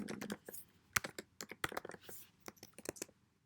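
Quiet, close clicking of keys being typed on a computer keyboard in irregular bursts while entering a statistics command, with no speech.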